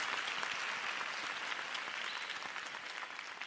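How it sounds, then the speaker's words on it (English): A high school graduation audience applauds family and friends, an even, continuous patter of many hands clapping at moderate distance, holding steady throughout. "So would you give your family, friends, a round of applause for being here this morning with you?"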